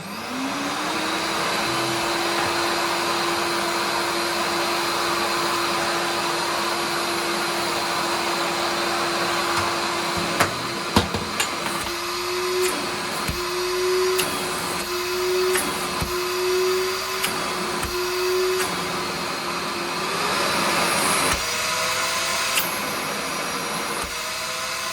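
A TACKLIFE stainless steel 6 gallon wet/dry vacuum cleaner runs continuously with a steady motor whine and airy rush, nearby and moderately loud, with clunks and handling knocks midway and a pitch shift near the end.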